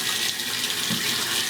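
A tap runs steadily into a sink while a man rinses soap off his face, a continuous close hiss of flowing water with slight splashing and no speech.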